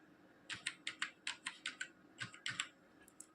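Quick bursts of keystrokes on a computer keyboard as an OTP code is typed in, about a dozen close clicks in uneven clusters with a short pause midway, heard alone in a quiet room.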